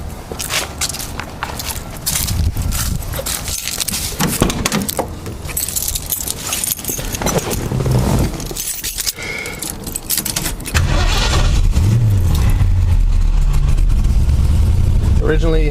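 Keys jangle and a Mustang with a new water pump and exhaust system cranks over, then settles into a loud, steady idle with a deep rumble, heard close by.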